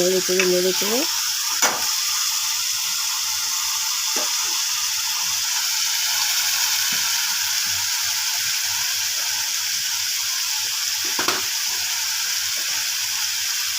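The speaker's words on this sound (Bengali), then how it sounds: "তারপরে নেড়ে চেড়ে" Onion and red chilli paste fry and get stirred in a pan, giving a constant hissing sizzle with occasional spoon clacks against the pan.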